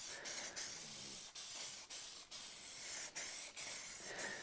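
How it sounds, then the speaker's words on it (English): Spray paint can hissing in repeated bursts onto door panels from a 1980 Dodge W200 pickup, close and steady, each spray separated by brief pauses. "It's always hard pointing a spray can down."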